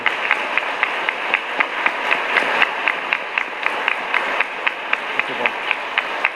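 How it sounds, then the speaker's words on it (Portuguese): A crowd in a parish hall during a Saint Anthony novena claps steadily and fairly loudly, with quick, evenly spaced claps running throughout. "Acho que nós podemos dar uma salva de palmas para ele"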